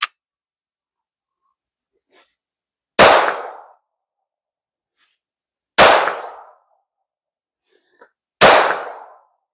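Three sharp, loud pistol shots fired during a shooting drill, each a crisp crack with a short ringing decay, spaced about three seconds apart against near silence.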